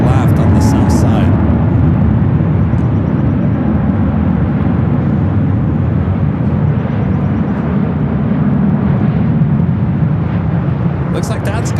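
An airplane arriving on runway 25 left at LAX, a loud, sustained low roar of engines rumbling throughout, with people talking over it.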